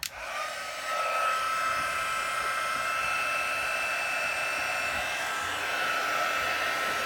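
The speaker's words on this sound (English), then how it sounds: "I'm going to take my heat gun" A heat gun blows steadily to warm a bookmark card, a continuous close, loud whooshing hiss with a high whine that starts abruptly and holds for several seconds without talk.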